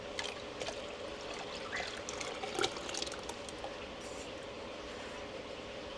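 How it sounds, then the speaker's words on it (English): Melted chocolate mixture pours over gelatin in a steady, soft trickle, a faint continuous liquid stream heard close up with no talking. "So now we're going to pour it over the top of the gelatin"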